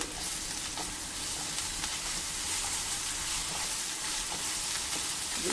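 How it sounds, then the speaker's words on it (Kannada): Ginger garlic paste sizzles and fries steadily in a hot pan for a few seconds, a dense, continuous crackle close by with no voices. "ಈಗ ಜಿಂಜರ್ ಗಾರ್ಲಿಕ್ ಪೇಸ್ಟನ್ನು ಹಾಕ್ತಾಯಿದ್ದೀನಿ. ಇದು ಸ್ವಲ್ಪ ಫ್ರೈ ಆಗಲಿ."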